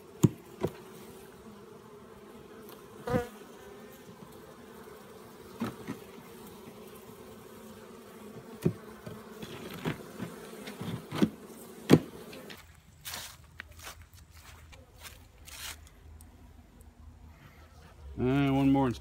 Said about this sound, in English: This little colony here, tiny little bunch of bees